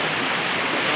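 Cold water flowing steadily at Nasugbu, Batangas, a close, loud, continuous hiss and rush of water with no voices.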